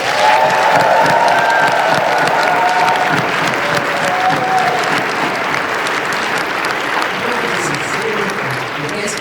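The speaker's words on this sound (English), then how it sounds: "Let's give them all a warm round of applause." Loud, sustained applause with scattered cheers from a crowd at a live comedy panel show at PAX East, a thick continuous roar of clapping that gradually eases over about nine seconds.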